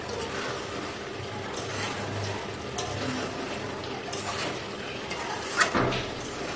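Pepper chicken stirred in a pan, with a soft, continuous scraping and light clinks of a utensil against the pan, close by and fairly quiet, plus one sharper knock near the end.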